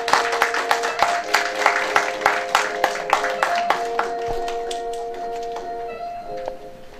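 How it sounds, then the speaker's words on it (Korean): An audience at a high school admissions seminar in a hotel ballroom applauds a lecturer's introduction, with distinct, fairly rhythmic claps that gradually soften and fade, while a steady tonal hum runs underneath. "큰 박수 부탁드리겠습니다."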